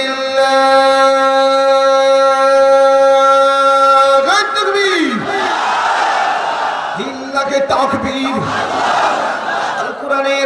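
A large crowd at an Islamic sermon gathering roars 'Allahu Akbar' in loud unison, following a held, sustained tonal sound at the start, with the shouts rising and falling in two big waves.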